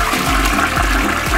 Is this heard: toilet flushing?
yes